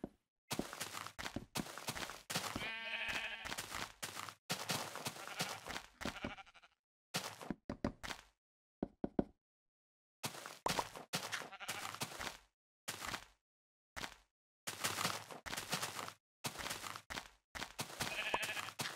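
Sheep bleating in Minecraft Pocket Edition, several clear bleats, one with a wavering tremolo, separated by footstep-like thuds and stretches of silence.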